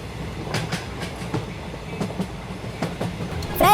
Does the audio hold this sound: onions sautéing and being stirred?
no